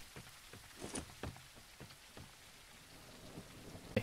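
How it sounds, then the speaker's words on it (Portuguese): Steady night rain pours in the survival video game No One Survived, a soft continuous hiss broken by scattered heavier drops and a sharp knock near the end, fairly faint overall. "Não para de chover. É chuva pura de noite."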